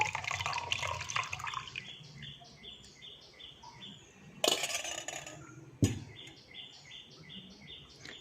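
Boiled vetiver rose water is poured and strained, giving a trickling, splashing flow with a couple of sharper sloshing bursts, while birds chirp in a repeating pattern nearby; no talking.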